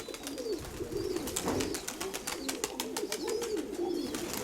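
Repeated low cooing of a large domestic pigeon, a steady rhythmic series of soft coos close by, with faint chirping and wing or cage rattles in the background.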